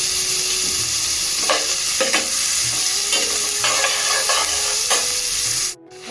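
Chopped onions and coriander frying in a hot pan with a loud, continuous sizzle and hiss, stirred with repeated short scrapes close by; no voices.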